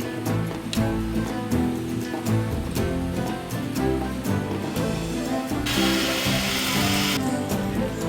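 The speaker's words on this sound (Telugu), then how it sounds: "ఇప్పుడు కొంచెం కొంచెం వేసుకొని గ్రైండ్ చేసుకోవాలి" A mixer grinder blending boiled chana dal in small batches for an Ugadi festival sweet, running as a steady loud whirring motor throughout with a harsher buzzing surge near the end.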